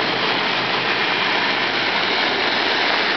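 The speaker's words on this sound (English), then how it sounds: "the rain and the water definitely is churning and roaring" Heavy rain and floodwater churn and roar during flooding in Heber Springs, Arkansas, a dense, constant hiss-and-rumble wash at a steady loud level with no voices.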